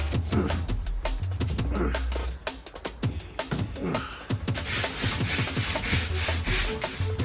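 Plasterboard being cut back down to size while fitting out a shipping container home, with repeated rough scraping strokes in an uneven rhythm, close and moderately loud.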